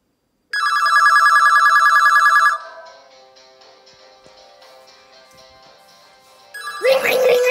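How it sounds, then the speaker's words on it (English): A telephone rings indoors at a home with a loud, bright electronic trill repeating for about two seconds, then fades to a quieter lingering tone before a burst of voice at the end. "phone's ringing"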